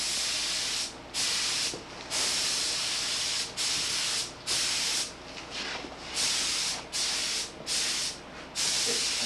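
A table is spray painted in repeated short bursts, each hiss lasting about a second with brief pauses between, close and steady, with no talking.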